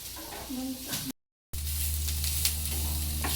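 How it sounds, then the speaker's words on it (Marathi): Onion fries in a pan for a spicy Maharashtrian mutton curry, giving a steady close sizzle with soft stirring; a brief voice is heard first, then a short silent gap before the frying continues alone. "कांदा असा छान हलकासा गुलाबी रंगावरती सोनेरी रंगावरती भाजून घ्यायचा"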